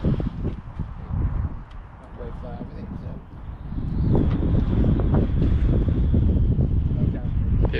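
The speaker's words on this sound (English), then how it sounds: "Bit of wind there, isn't it?" Strong wind gusts buffet the microphone beside open water during carp fishing, a steady roaring rumble that swells louder partway through, with muffled voices under it.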